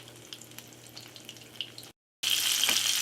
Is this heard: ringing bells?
no